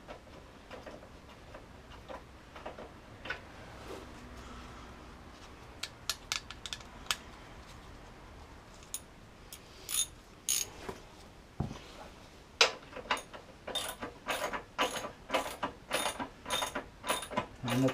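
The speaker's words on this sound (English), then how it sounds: "I'm going to put the plug back in now." Drain plug on a 2006 Kawasaki KFX 400 ATV being threaded back in and snugged, a run of close, quiet metallic ratchet clicks that quicken and grow denser toward the end.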